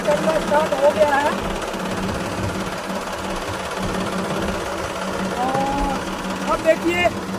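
A tractor engine rumbles steadily as the vehicle rolls forward over a Safari trolley bag during a luggage crush test, a low continuous drone with a voice narrating over it.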